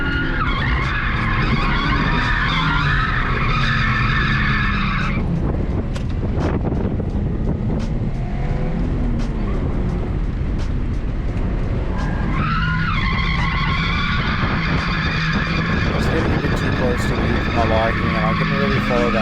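A drift car's tires screech in long, loud squeals as it spins out on track. The skid breaks off midway, then the screeching returns over engine roar and wind buffeting. Someone talks throughout.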